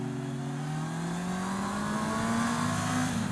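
A 2019 Honda CB650R four-cylinder motorcycle pulling hard in second gear, its engine note climbing steadily in pitch as it revs up, loud and continuous with no talking.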